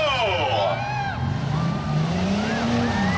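Demolition derby cars roar off together at the start of the first heat, a loud continuous engine rumble with revving swells, while a crowd and announcer's voice sound over the top throughout.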